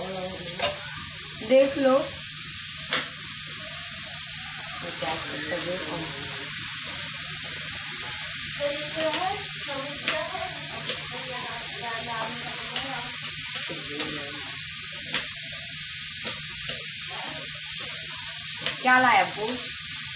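Ragda simmers and sizzles in a pot on a gas stove, a steady bubbling hiss running throughout with occasional stirring, while someone talks over it.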